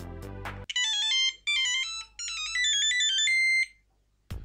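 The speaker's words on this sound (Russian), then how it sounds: "также на звонок или на смс можно поставить одну из штатных монофонических мелодий" Handspring Treo 180G communicator from 2002 plays a built-in monophonic ringtone melody, a bright series of clean electronic beeps in a quick rhythmic tune with short pauses, loud and alone.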